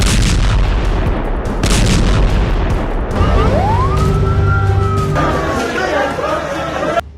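A war siren wails over Gaza in a slow rising and falling tone, partly buried under loud crowd noise, rumbling and overlapping voices.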